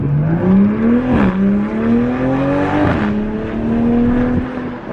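Exhaust on a 2021 Toyota Supra fitted with aftermarket downpipes, loud and close, rising in pitch through revs with sharp crackling burbles and pops at each shift or lift, running continuously without talk.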